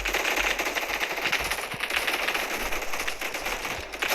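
Rapid, continuous bursts of automatic gunfire crackle densely throughout, a dense rattling barrage from a Roblox game, with no talking.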